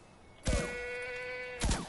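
Two sharp thumps bracket a tonal, synthetic-sounding goat bleat from the video game Far Cry 4, with no talking.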